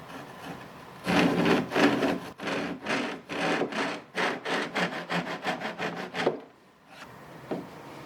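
Hand tool working waste wood out of a cut, a run of rhythmic scraping strokes that start slower and grow quicker and shorter, close and fairly loud, then a pause and a couple of lighter scrapes.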